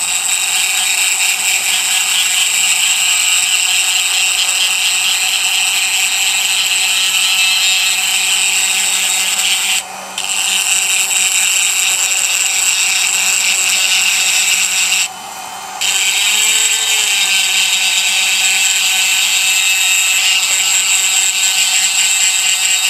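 A power tool grinding stone concretion off a large fossil snail, running as a loud, continuous close whine with two brief pauses where the tool lets off before resuming.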